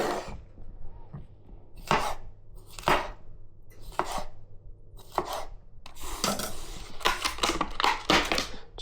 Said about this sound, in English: cut up a couple of cherry tomatoes, red capsicum, cucumber